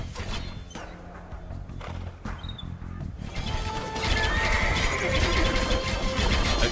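In Age of Empires II Definitive Edition, horses whinny and snort amid hoof clatter and a rough, crashing background din that swells louder partway through.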